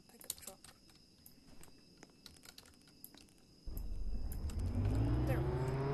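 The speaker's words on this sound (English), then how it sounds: "Alright, might as well just get in a pickup truck." A pickup truck engine in the Roblox Jailbreak video game starts up after light keyboard clicking, then runs with a loud, rising rev as the truck drives off.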